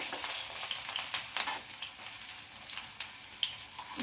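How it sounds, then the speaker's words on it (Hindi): Colocasia leaf pakoras coated in a spiced rice and lentil paste sizzle in hot oil, a steady bright crackle with small pops and bubbling, close up and with no voices. "इसको हम गोल्डन ब्राउन होने तक फ्राई करेंगे।"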